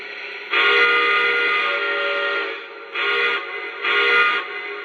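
The third whistle setting on a Lionel Legacy Conrail T1 model steam locomotive blows a bright multi-tone chime, one long blast followed by two shorter ones, close and clear with nothing else over it.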